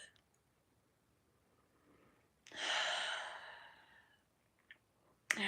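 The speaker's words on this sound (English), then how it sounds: "take a nice deep breath" One slow, deep breath taken close to the microphone, a soft airy rush swelling and fading over about two seconds in otherwise near silence, followed by a small click.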